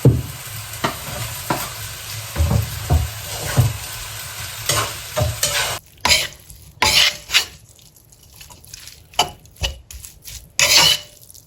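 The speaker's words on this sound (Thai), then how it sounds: "เดี๋ยวมาม่าต้องมาผัด ผัดเพิ่มอีกนะคะ" Vegetables being stir-fried in a pan, loud close sizzling broken by repeated scraping and tossing strokes of a utensil, with brief quieter gaps between stirs.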